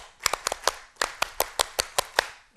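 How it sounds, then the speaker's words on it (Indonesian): Indonesian Scouts perform the Tepuk Pramuka, a rhythmic group clap at a Scout movement anniversary gathering: a crisp patterned sequence of about a dozen sharp, unison claps with short pauses between groups, close and clear. "Tepuk Pramuka."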